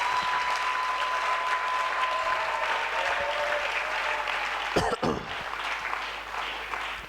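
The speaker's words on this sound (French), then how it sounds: "Est-ce qu'on peut acclamer encore pour le Seigneur Jésus?" A church congregation at a live 2024 Easter seminar applauds steadily and loudly for the full stretch, a dense wash of clapping with a faint held tone early on and a brief sharp knock near the end.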